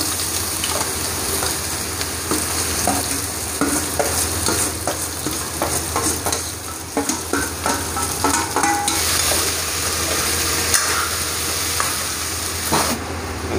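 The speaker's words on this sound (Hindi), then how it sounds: "जीरा भुन चुका है तो अब सब्जी डाल देते हैं कटी हुई" Chopped vegetables sizzle steadily in a pan with roasted whole cumin, while a spoon stirs and scrapes in irregular clatters throughout the long, close frying.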